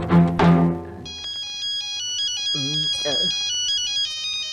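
Mobile phone ringtone in a Tamil comedy film scene, a bright repeating electronic melody that starts after a second and keeps going, with voices heard before and over it.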